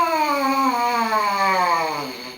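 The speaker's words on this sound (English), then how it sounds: "do a nice, firm, high buzz and slowly loosen your mouth and kind of go down" Lips buzzing into a trumpet mouthpiece, starting firm and high and sliding smoothly downward in one continuous loosening glide, close and alone, fading slightly at the bottom.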